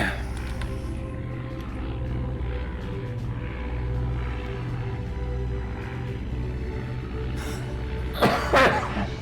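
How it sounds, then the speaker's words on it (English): A person coughs a couple of times near the end, short harsh bursts over a constant low engine-like drone that fills the whole stretch. "Sorry about the coughs."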